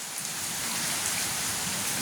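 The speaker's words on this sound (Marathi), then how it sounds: "पावसाचा जोर वाढलेलाच दिसतोय आता" Heavy rain pours steadily in a dense, unbroken hiss, loud and close, with no voices or other sounds.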